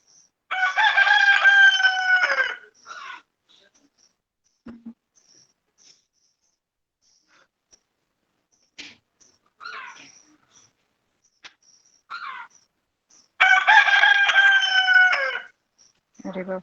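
Roosters crow loudly near a balcony, two long harmonic cock-a-doodle-doos at the start and again near the end, with scattered shorter calls and clucks between stretches of quiet.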